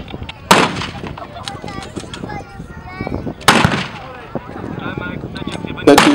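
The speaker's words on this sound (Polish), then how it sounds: "Z teczaka strzał." T-34 tank cannon fire at a historical battle reenactment booms out in two heavy blasts a few seconds apart, with rumbling echoes between them, a commentator talking throughout and another sharp report starting at the end.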